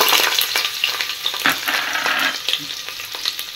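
Carrots and green chillies fry in a hot pan for a sweet veg pulao, giving a steady broadband sizzle with occasional scraping stirs, close and fairly loud, with no talking.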